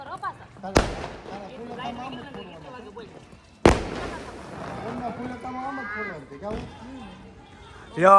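Two sharp, loud bangs of firecrackers bursting about three seconds apart during Uttarayan celebrations, with people chattering and shouting continuously around them.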